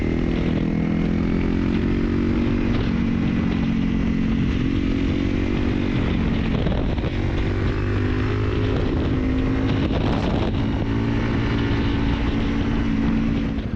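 Steady engine drone of a Honda CRF250L Rally motorcycle being ridden, a continuous loud buzzing hum with slight pitch shifts as the bike moves along, no talking.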